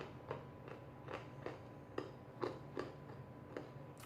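Someone chews an espresso-flavored treat close to the mic, with roughly ten crisp, evenly spaced crunches ticking along at a steady pace, quiet and with no talk over them.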